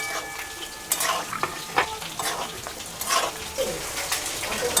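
Mango and fish pieces go into a simmering potato curry in a Bengali-style rui fish curry, giving close, repeated stirring scrapes and wet splashes over a steady sizzling bubble.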